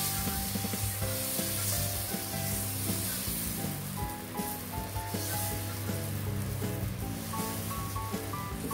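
Besan and paneer cheela batter spreads across a hot pan in a continuous close sizzle with soft scraping strokes, while background music plays underneath.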